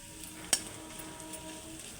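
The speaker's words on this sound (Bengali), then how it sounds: "আর অবশ্যই গ্যাসটাকে আস্তে করে দিয়ে ভাজবেন।" Shrimp frying in a pan over a low gas flame gives a steady, soft sizzle with one sharp clink near the start. No one speaks.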